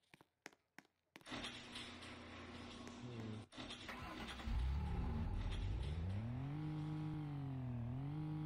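Car engine in the Roblox Bloxburg game, a few sharp clicks, then a steady synthetic engine drone that rises and falls in pitch as the vehicle accelerates and eases off, close and continuous.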